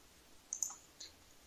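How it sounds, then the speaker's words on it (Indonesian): Ctrl+D pressed together on a computer keyboard gives a few faint, quick key clicks, close by and alone in a quiet room. "tekan Ctrl D seperti ini ya, Ctrl tambah D ini di keyboard, jadi tekan bersamaan"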